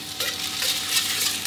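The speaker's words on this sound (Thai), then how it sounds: "นี่เราผัดให้ไข่สุกหอมดีก่อนนะครับ" Eggs being stir-fried in a pan for Thai cabbage with egg, giving a continuous loud sizzle with scraping stir strokes close up and no speech.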